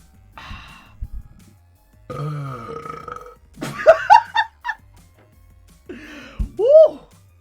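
Several loud, close burps in a row after hard guzzling a drink, some short and croaky, others long and drawn out, separated by brief silences, with no talk over them.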